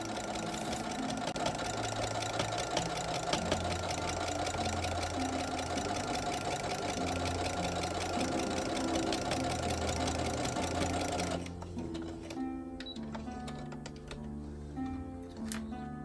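A sewing machine stitches straight lines across a mug rug, a steady close mechanical whir running without pause for about eleven seconds before stopping, followed by quieter handling clicks.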